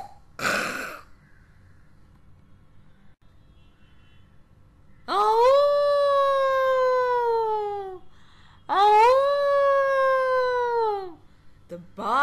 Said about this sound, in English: The barking deer calls like a scared dog.